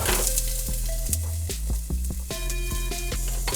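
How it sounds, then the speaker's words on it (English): Onions, celery and other vegetables sautéing in olive oil in a pan, a close steady sizzle with stirring clatter over a background of sustained tonal notes. "we're going to add the olive oil. And we're going to start sauteing our vegetables."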